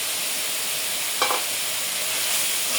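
Spice paste of ground cumin, coriander and chilli frying lightly in a pan for kolai greens, a dense steady sizzle up close with one short scrape of stirring in the middle.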